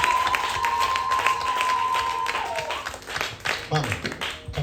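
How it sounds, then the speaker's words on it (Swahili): A church congregation applauds a woman during a service, a busy spread of hand claps with a held musical tone that fades out, while a voice talks over the end. "Acheni ushabiki, mpigie makofi mama."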